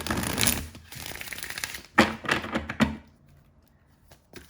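Tarot cards are shuffled in a few quick riffling bursts, with soft taps and rustles between them, close by and without any talking.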